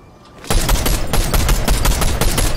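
Rapid bursts of automatic gunfire from a Fortnite weapon, fired into bushes, start suddenly and rattle on loud and close in a dense, steady stream.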